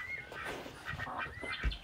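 Ducks quack repeatedly in short nasal calls among farm chickens, turkeys and geese, with overlapping bird calls at moderate distance and a brief low thump near the end.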